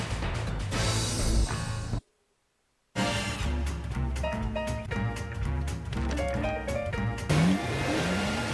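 A BMW 3 Series car with an inline six-cylinder engine revs steadily and loudly, its tone rising and falling, broken by a short silent gap.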